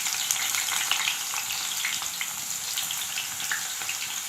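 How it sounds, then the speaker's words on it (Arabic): Sliced potatoes for homemade chips fry in hot oil, a steady close crackling sizzle with bubbling, continuous and fairly loud throughout with no talking. "البطاطس بتنزل كده في الزيت السخن بتفشر"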